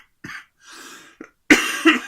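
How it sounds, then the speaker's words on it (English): A person coughs several times at close range, a few short harsh bursts followed by louder, rougher coughs at the end, with no speech. "Oh, excuse the cough."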